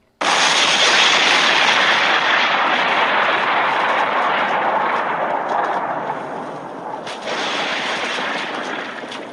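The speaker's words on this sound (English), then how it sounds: "he detonates the gel foam explosives" Gel foam explosives blow apart a small store in a Batman video game, a loud sudden blast that rolls into a long, dense rumble of debris and fire lasting several seconds before slowly easing.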